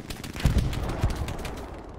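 Gunfire in the World War II shooter Hell Let Loose during a fight over Utah Beach, with two heavier close shots standing out over a constant crackle of distant shooting, no talk.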